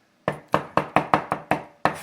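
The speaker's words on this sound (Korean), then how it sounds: "자신 있게 칼질하실 때는" A knife chops sharply on a cutting board, eight crisp strikes in a quick, slightly uneven rhythm, close and clear with no voices.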